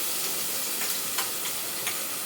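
Onion, ginger and garlic masala paste sizzles steadily in a pan, a loud even frying hiss with occasional soft stirring scrapes and pops.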